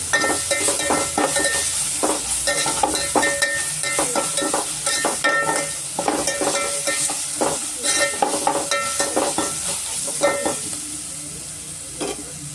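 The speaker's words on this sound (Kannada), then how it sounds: "ಸುಮಾರು ಒಂದು ಎರಡು ಸ್ಪೂನ್ ಆಗುತ್ತೆ ಶುಂಠಿ ಬೆಳ್ಳುಳ್ಳಿ ಪೇಸ್ಟು ಅದಕ್ಕೂ ಸ್ವಲ್ಪ ರಾಸ್ ಮೇಲೆಲ್ಲ ಹೋಗ್ಬೇಕಾಗುತ್ತೆ ಅಲ್ಲಿವರೆಗೂ ಚೆನ್ನಾಗಿ ನಾವು ಫ್ರೈ ಮಾಡ್ಕೊಬೇಕಾಗುತ್ತೆ" Ginger garlic paste fries in a pan for Hyderabadi chicken dum biryani. A loud, steady sizzle runs under rhythmic stirring and scraping strokes from close by, with no voices.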